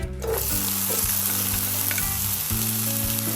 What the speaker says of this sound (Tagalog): Igisa natin itong sibuyas.